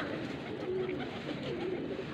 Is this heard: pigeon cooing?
yes